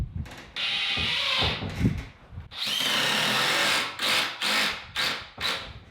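A power drill drives drywall screws into a 2x4 stud in an old house under renovation, with a long whirring run broken by short stops and then several quick bursts at the end.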